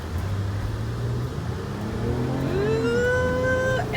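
A car engine revs up and gathers speed, its pitch climbing steadily from a low hum to a high whine over a few seconds, loud and close with no talking.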